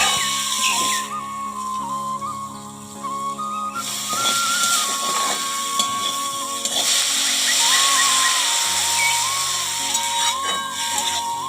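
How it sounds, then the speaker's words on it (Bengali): Potatoes seasoned with turmeric, salt, ground coriander and cumin fry in a pan, giving a continuous close sizzling hiss, with a thin whistling tone wavering over it. "এখন আমি আলুটাকে সুন্দর করে ভেজে নেব।"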